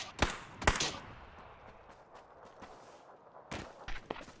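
Gunfire in the PUBG battle royale game: a couple of sharp close shots early, a quieter stretch, then more scattered shots and distant cracks near the end.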